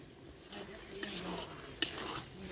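Turmeric and spices being stirred into a frying pan at an outdoor night campsite, a soft scraping of a utensil against metal with light sizzling and a brief clink, fairly quiet.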